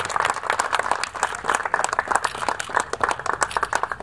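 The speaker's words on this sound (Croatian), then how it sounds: "Molim vas jedan veliki aplauz." An audience claps at an award ceremony during an international athletics meeting in Bar, Montenegro, a dense burst of fast, uneven hand claps that stays steady and fairly close for a few seconds with no speech over it.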